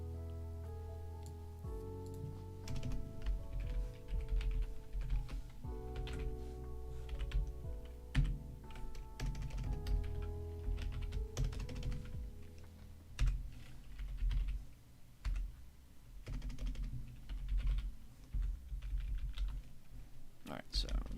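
Fingers type steadily on a computer keyboard during a live stock-trading session, giving a dense, continuous clatter of close key taps with brief pauses.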